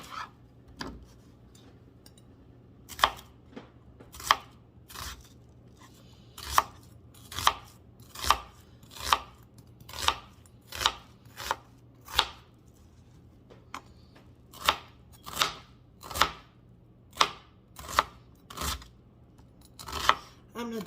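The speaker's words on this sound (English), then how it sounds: "So first thing we're gonna do is we're gonna cut this onion." Knife chopping an onion on a cutting board, a series of about twenty sharp, distinct chops in an irregular rhythm, close and clear over a faint steady hum.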